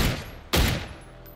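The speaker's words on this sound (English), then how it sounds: "I was okay with that shooting." Gunfire in the video game PUBG, two heavy booming shots about half a second apart, each loud and close with a decaying rumble tail.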